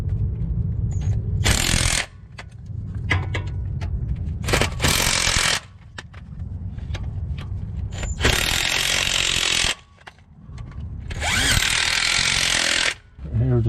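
A power drill bores extra holes in an aftermarket solid motor mount for a Subaru Impreza 2.5RS GC8, with four loud, harsh bursts of drilling separated by quieter workshop stretches and handling noise.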